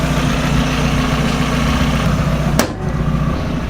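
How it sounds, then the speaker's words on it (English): A Mazda NA Miata engine idles steadily and close up, a low even rumble, then a brief light blip of throttle near the end raises the note before it settles back to idle. "And the slightest throttle touch gives it a little bit of gas."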